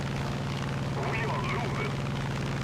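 Steady droning roar of a P-47M Thunderbolt propeller fighter's engine at high altitude in War Thunder, continuous and full with a deep throb, a voice talking over it throughout.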